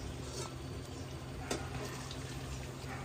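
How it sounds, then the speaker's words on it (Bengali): Hot water goes into a pot of cooking meat, a soft continuous pouring and bubbling wash of liquid, fairly faint and steady with a brief splash midway. "মাংসতে গরম জলটা দিয়ে দিয়েছে"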